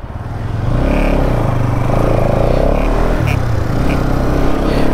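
A motorbike or car rumbles close by on a road in Alibag, a steady loud engine drone with some revving and clatter that fills the whole stretch, with no voices over it.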